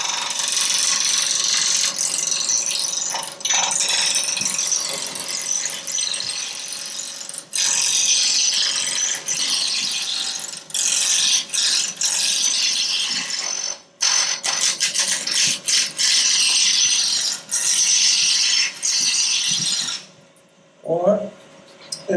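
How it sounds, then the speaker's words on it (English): A roughing gouge cuts an uneven blank down to round on a wood lathe, giving a loud, continuous rough chattering and scraping with brief breaks as the tool is repositioned. "take this down to round. You can do that with a roughing gouge."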